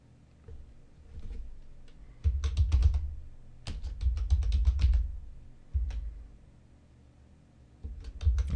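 Bursts of rapid keystrokes on a computer keyboard entering a short phrase in a design program, close and crisp, with pauses between runs of clicking and no talk.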